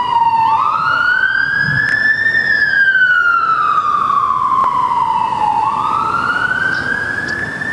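An emergency vehicle siren wails loudly and steadily outside at an open-air rally, its pitch sweeping up and down in a slow cycle and staying prominent throughout.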